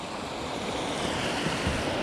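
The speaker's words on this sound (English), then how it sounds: "Came up to the waterfall and the dam." A waterfall at a river dam gives a steady, broad rushing roar of falling water, continuous and loud throughout with no voices.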